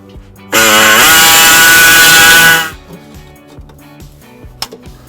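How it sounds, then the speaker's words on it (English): Air saw cutting to enlarge an access hole in the frame of a 2019 Subaru Legacy during a trailer hitch install: a loud, steady high-pitched buzzing burst lasting about two seconds, then quiet shop noise with small clicks. "We're going to use an air saw to expand the hole."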